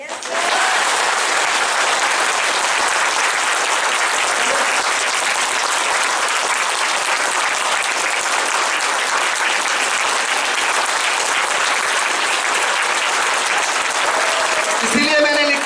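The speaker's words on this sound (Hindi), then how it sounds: "तो एक बार शानदार तालियों से मुझे बचा सकते हैं?" Sustained, loud applause from a large audience at a motivational event, steady dense clapping filling the whole stretch without a break, a short swell near the end.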